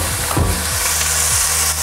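Loud, constant sizzling of a frying pan of lemon chicken as liquid is poured in, a dense hiss of spitting oil and steam alone, with faint scraping at times.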